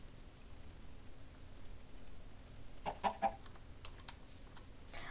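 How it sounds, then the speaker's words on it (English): A Minecraft chicken clucks in-game, a short cluster of two or three quiet clucks near the middle over a low constant hiss and hum. "This time we have a chicken."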